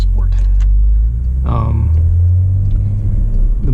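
A 2018 Porsche Macan GTS engine rumbles steadily at idle in sport mode, a deep continuous low drone close by, with a brief burst of higher sound midway.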